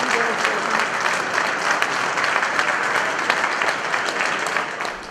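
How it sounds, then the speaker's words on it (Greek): Crowd applause at Kalamaria station of the Thessaloniki metro extension, greeting the tunnel boring machine Elli, with sustained dense clapping at a steady, fairly loud level and faint voices mixed beneath. "Ένα χειροκρότημα για την Έλλη"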